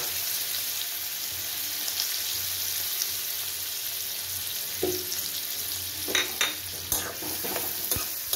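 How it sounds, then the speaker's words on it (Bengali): Chopped onion fries in hot oil with a little butter, giving a continuous close sizzle punctuated by a few sharp scrapes and clinks of stirring toward the end. "পেঁয়াজটা ভাজা হোক"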